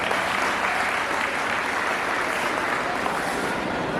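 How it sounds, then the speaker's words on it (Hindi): Audience applause at a Ravidas Jayanti program for the performers, dense and steady clapping from a crowd lasting the whole stretch, fairly loud and close with no talk over it. "एक बार जितने भी साथियों ने प्रोग्राम किया है उनके लिए दिल से जोरदार तालियां बजाइए आप।"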